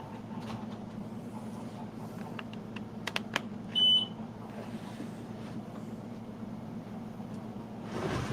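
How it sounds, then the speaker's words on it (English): A laser engraver or printer in a workshop gives a short electronic beep partway through, a single clear tone over a low steady hum and a few faint clicks. "now he's making his printer or his laser beep"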